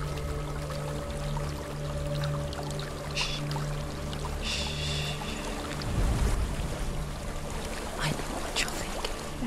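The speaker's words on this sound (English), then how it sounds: "a waterfall." Steady rushing wash of a waterfall in the game Hellblade, a continuous broadband roar under a low droning score, with faint splashes and a brief louder surge.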